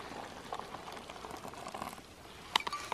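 Water pours into a plastic bag holding dehydrated three-cheese lasagna, a soft bubbling, gurgling fill with a few sharper drips and crinkles near the end, close and quiet.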